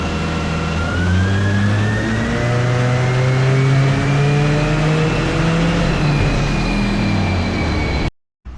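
A turbocharged car engine revs hard through a sustained pull, its pitch climbing steadily toward redline, loud and close, before hitting boost cut and cutting out abruptly near the end.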